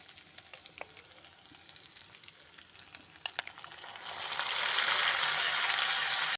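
Ginger, green chili and tomato paste drop into hot oil with frying potato and rice, a few scraping stirs giving way to a loud, steady hissing sizzle that swells and holds close by.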